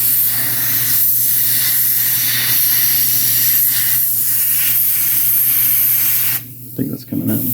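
Airbrush spraying matte lacquer top coat onto the edge of a painted miniature, a loud, continuous close hiss with a steady hum beneath that cuts off near the end, followed by a few brief clicks.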